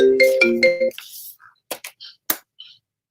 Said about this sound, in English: Sorry, that was a phone call coming in.